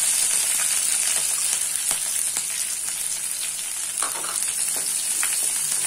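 Chopped onions sauté in a pan for wheat rava (daliya) upma over low heat, giving a steady close sizzle with a few faint stirring scrapes and no talking.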